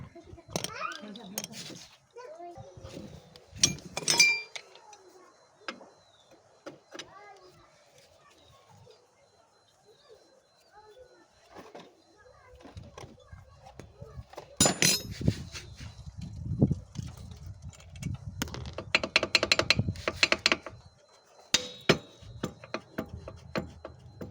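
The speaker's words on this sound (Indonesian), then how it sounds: "kita lepas baut 10 yang ini" Sharp metallic clinks and ratcheting scrapes come from a wrench working a 10 mm bolt loose on a Beat motorbike's double stand, scattered and irregular, busier and louder in the second half, with a voice faintly audible at times.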